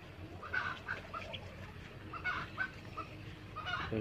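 Chicks and hens clucking in a farm chicken area, soft repeated peeping and clucks in short bursts, fairly faint against low background noise.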